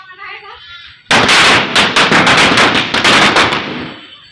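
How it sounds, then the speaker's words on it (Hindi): Firecrackers strapped to a burning Ravan effigy go off in a loud, sudden volley of rapid, crackling bangs lasting about two and a half seconds, then die away; quiet voices are faintly heard beforehand. "रावण तो जलाई नहीं, पटाखे जल गए खाली"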